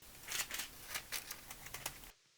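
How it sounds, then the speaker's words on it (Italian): Scissors snipping through stencil paper for a tattoo stencil: a quick run of about ten sharp, crisp cuts in irregular rhythm, close and fairly loud, ending abruptly in near silence. "ora ci dobbiamo munire di forbici e andare a ritagliare questa parte di foglio che diventerà il nostro stencil"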